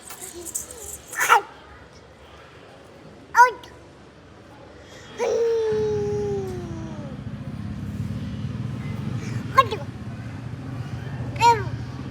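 A dog barks in a handful of sharp, separate woofs spread across the stretch while people chat nearby and a vehicle hums in the background.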